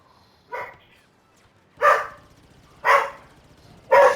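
A dog barks four times in close succession, loud and near, each bark short and sharp with brief pauses between, with no talk over it.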